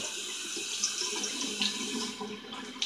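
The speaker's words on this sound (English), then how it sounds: "Go ahead and wet my brush up." Tap water runs steadily into a sink as a shaving brush is wetted before a straight razor head shave, a continuous close hiss with a few brief splashes and no talking.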